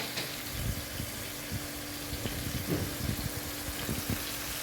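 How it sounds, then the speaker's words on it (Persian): Boiling water poured into a pot of browning chicken, a soft continuous watery splash and sizzle with scattered bubbling pops over a low background hum. "یه مقدار آب جوش روش میریزم"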